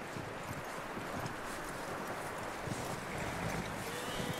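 Horse hooves clip-clop steadily in the Red Dead Redemption 2 video game, a continuous rhythmic trot under wind and outdoor ambience, with no talk.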